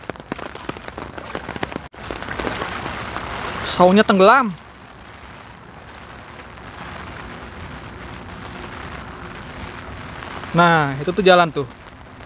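Heavy rain pours steadily over a swollen, flooding river in Korea after days of downpour, a dense hiss throughout, while people talk briefly at moments.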